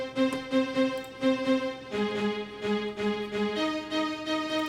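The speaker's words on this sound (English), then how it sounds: "And then here's some staccato strings." Staccato string synth preset in FL Studio for a melodic house track, playing plucky repeated short chord notes in a steady rhythm, shifting to new chords partway through, loud and alone with no talking.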